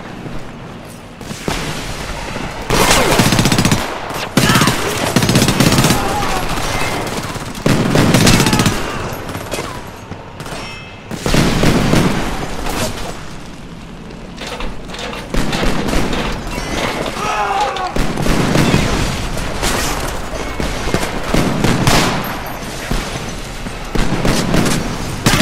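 Sustained heavy gunfire in the video game Homefront, loud and continuous bursts of automatic fire with booms, layered under shouted voices and battle noise throughout.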